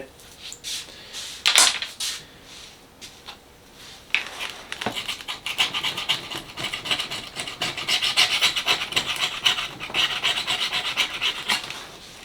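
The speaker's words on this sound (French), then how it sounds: "On gratte le reste." Rough rasping and scraping of leftover material being filed off, in short strokes at first and then in a long run of continuous rubbing, close and fairly loud, with occasional voices.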